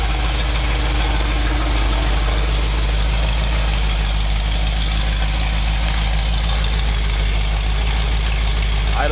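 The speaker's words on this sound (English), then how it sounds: "no misses, nice flat idle, man. Idling perfect." An Oldsmobile engine holds a smooth, even idle with a steady low thrum and no misses, continuous and close for the whole stretch.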